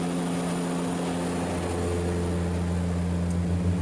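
Small propeller airplane in flight toward a mountain airstrip in the highlands, a steady droning engine hum with strong low tones holding constant and close throughout, with no talk.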